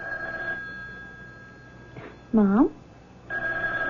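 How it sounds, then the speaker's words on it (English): A telephone bell rings in a mystery radio drama in two clear bursts at the start and end. A single voice speaks briefly in the quiet gap between them. "Why don't you answer the phone?"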